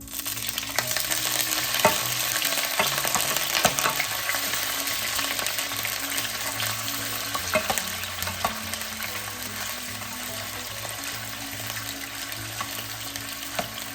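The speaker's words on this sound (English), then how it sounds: "Once we have the oil to temperature, we can now add our tofu here" Tofu frying in hot oil in a pan, a loud, steady, broadband sizzle with crackles and spits that carries on throughout, close up and without speech.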